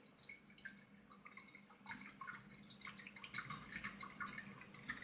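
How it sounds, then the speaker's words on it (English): Water trickling out of a slightly tilted bottle in a liquid pressure demonstration, a faint, continuous dripping and splashing that grows a little busier toward the end. "As you will slightly side the bottle, the water will come out"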